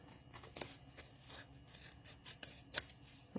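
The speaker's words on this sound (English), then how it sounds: "Come around and cut that off. I don't want to cut the envelope flap." Scissors cut a paper envelope during a paper craft project, giving a few soft, scattered snips and rasping cuts, close and quiet, with one sharper snip near the end.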